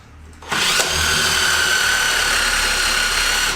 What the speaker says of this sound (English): just running the drill in reverse